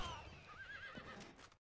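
A donkey brays once, loud and close: a short wavering cry that cuts off abruptly at the end.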